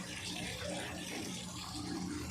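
Muddy spring water keeps flowing out of a natural spring after the clear water is gone, a brief unbroken rush of running water at moderate volume.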